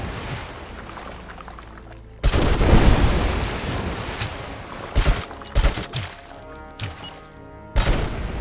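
A sudden loud explosion erupts in RoboCop: Rogue City after a quiet stretch, then rumbles and decays. Several sharper blasts and thuds follow at intervals, with one more heavy burst near the end.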